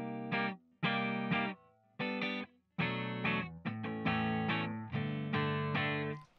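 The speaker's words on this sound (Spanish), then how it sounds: "lo primero que tenemos es un Jazz Clean 120, que es la emulación de un Roland." An Ibanez electric guitar through a NUX MG30 Jazz Clean 120 amp emulation rings out in strummed chords and short phrases, clean with a shimmering chorus-like sheen, each chord decaying before the next, heard alone without talking.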